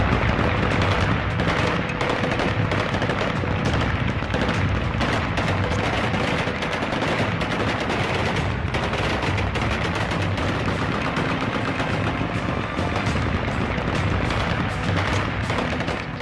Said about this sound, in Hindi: एयरपोर्ट पर कब्जा करते ही तालिबान लड़ाकों ने गोलियां दागकर जश्न मनाया।